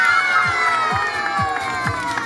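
A crowd of children cheers and claps at a children's show during the Limassol Wine Festival 2019, with a steady wash of shouting and regular soft thumps throughout.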